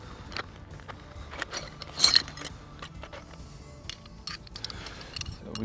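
Metal tools from a Honda Dominator motorcycle toolkit clink and rattle in scattered bursts, with one louder jangle near the middle, handled close by with no talking.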